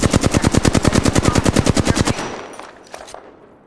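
Rapid automatic gunfire in Apex Legends, a loud, steady burst of evenly spaced shots lasting about two seconds, then cutting off into a fading tail with a few faint clicks and echoes.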